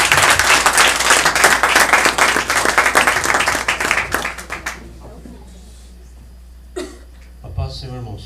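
A church congregation claps loudly and continuously in praise for several seconds, then the applause dies away into quiet with a few stray sounds and a voice.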